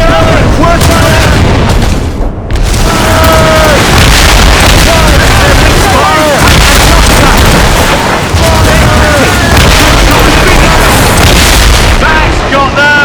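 Ship cannons firing during a naval battle in Assassin's Creed Rogue, a dense run of heavy booms and blasts that go on almost without pause, with shouted voices and crew chatter mixed into the din.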